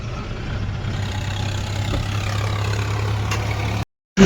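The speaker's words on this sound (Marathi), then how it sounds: "ट्रॅक्टर चालूच आहे" A tractor engine runs steadily at a roadside junction near a hotel, a continuous low idling drone held throughout, then cut off briefly near the end.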